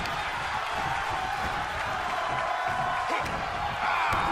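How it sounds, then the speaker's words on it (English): A dense arena crowd roars and cheers continuously in WWE 2K22, a loud, steady wash of many voices with a swell toward the end. "The sound of this crowd is deafening"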